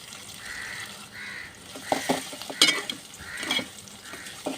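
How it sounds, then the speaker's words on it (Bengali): Onions and green chilies sizzle in a pan for chicken curry, with gentle frying hiss under intermittent clinks and scrapes of stirring. "ভালো করে নেড়ে চেড়ে ভাজবেন যাতে সব পেঁয়াজ ভেজে যায়।"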